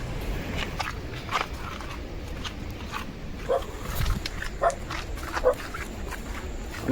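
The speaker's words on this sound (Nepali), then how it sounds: "अनि हाम्रो डग राजा चाहिँ भुक्दैछ" A dog barks outdoors on an old road at Batthali, giving several short, scattered barks at moderate distance over steady ambient noise, with footsteps nearby.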